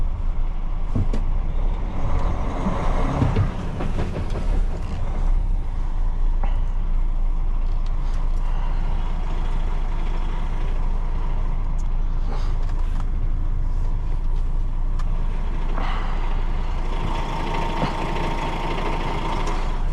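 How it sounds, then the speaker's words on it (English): A 44-tonne HGV truck on snowy, icy road strains to pull away, its engine a loud, steady low rumble that holds throughout with little change, no talk over it. "I can just put my foot down on the accelerator to try and get going"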